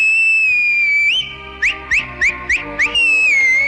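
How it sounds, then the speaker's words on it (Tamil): A person whistles loudly and close by, a long steady tone that rises, then five short rising chirps in a quick rhythm, then a long tone again, with no talking. "ரோட்ல விசில் அடிக்க தெரியுமா?"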